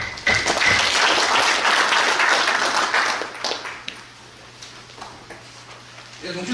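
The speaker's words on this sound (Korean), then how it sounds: "이쪽 박수 부탁드립니다." Applause from delegates at a Gyeongju union branch regular assembly after a budget motion passes, full and loud for about three seconds, then thinning into scattered claps and quiet room noise.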